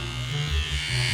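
An electric shaver buzzes steadily up close outdoors on a windy narrowboat mooring, a constant low motor hum with a slight wavering in pitch.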